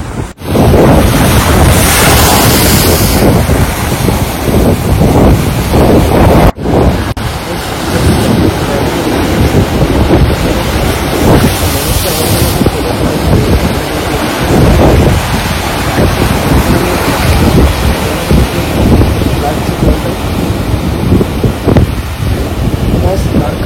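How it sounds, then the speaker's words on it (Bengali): Big sea waves crash onto the beach at Digha, a loud, continuous roar of surf with strong wind buffeting the microphone and a brief break partway through. "মানে এত জোর এখানে ঢেউটা।"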